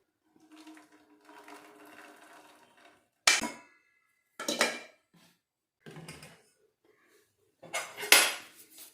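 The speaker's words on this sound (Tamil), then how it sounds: "நம்ம கரைச்சி வச்ச வெல்லத்தை வந்து இதில் ஃபில்டர் பண்ணிக்கலாம்." Melted jaggery syrup is filtered into a kitchen vessel, giving several separate bursts of clattering pots and pouring liquid, each about half a second long, with quieter rustling and soft handling noise between them, heard close by.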